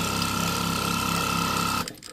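A sewing machine stitches a T-shirt quilt, its motor whirring in a steady, close, even drone for nearly two seconds before it stops abruptly with a few faint clicks.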